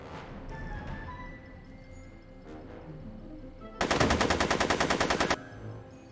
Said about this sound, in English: I'm finding it difficult to concentrate with all the bullets flying around my head, Mr. Corleone.